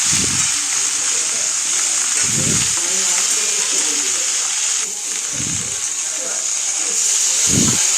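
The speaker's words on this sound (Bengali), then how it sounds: "বেশ হালকা করে আমি এটা ভেজে নিয়েছি" Eggplant, green chilies and tomato frying in a pan give off a steady, bright sizzling hiss throughout, while a voice speaks in short bursts over it.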